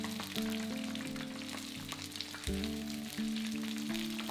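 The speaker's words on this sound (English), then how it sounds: "Turn over and cook for another minute until the bread is lovely and golden and the prawn paste is cooked through." Prawn toast frying in a pan gives a steady, close sizzle that runs unbroken throughout, with sustained musical tones playing over it.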